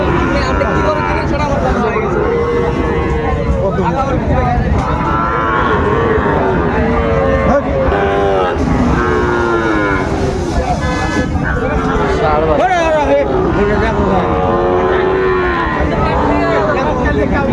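Sahiwal cattle moo repeatedly, loud and close, at a cattle market in Sylhet, Bangladesh, over a busy crowd of voices with an occasional horn toot.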